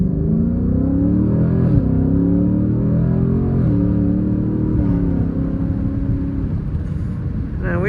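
A Ford Mustang GT V8 rumbles while cruising through city streets at night, a deep steady drone heard from inside the car, with gear changes around two, four and five seconds and a slight easing toward the end.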